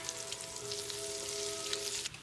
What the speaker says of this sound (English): Add your vegetables into your pot.